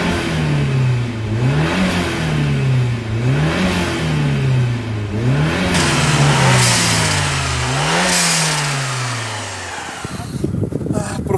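A Ford Sierra Cosworth engine revs up again and again, rising and dropping through repeated accelerations, loud and close, then cuts off abruptly near the end.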